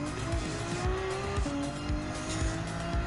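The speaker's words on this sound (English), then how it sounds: "that sound of the engine is very good to have a nice V12 engine" A V12 engine in a GT500-style race car in Gran Turismo 7, revving and shifting through gears with brief tire squeal, heard at a fairly low, even level with no talk.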